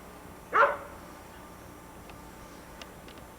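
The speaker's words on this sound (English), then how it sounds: "another visiting dog" A single short dog bark, fairly close and loud, breaks an otherwise quiet outdoor backdrop near a house, followed by faint distant ticks.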